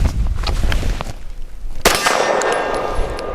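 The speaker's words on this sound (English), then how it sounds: "That's why there were 2 shots and only 1 on steel." A Canik METE SFX pistol fires CCI Blazer bulk ammunition at a steel target about 20 yards out: a loud, sharp shot at close range with a bright metallic clang ringing on after it, and quieter knocks before.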